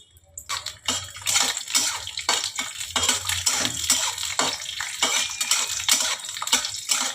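Raw peanuts cook in white oil in a pan, rattling and clattering in quick, uneven bursts as they are moved around, with sharp metallic scrapes and a wet background hiss.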